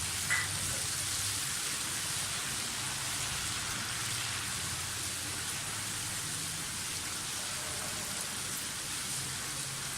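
Garlic ginger paste and whole spices sizzling in hot oil with fried onions for a vegetable biryani, a steady bright crackling hiss that holds evenly throughout, close up and unaccompanied.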